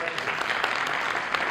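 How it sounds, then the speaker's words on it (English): Applause from an audience after a lecture, sustained dense clapping, fairly faint and distant, continuing evenly throughout. "Round of applause"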